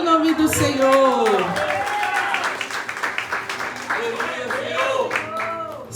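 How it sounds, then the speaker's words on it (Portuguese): A church congregation claps through a lively service, the applause dense and sustained under a loud, pitched voice calling out over the crowd. "Aleluia, aplauda o nome do Senhor."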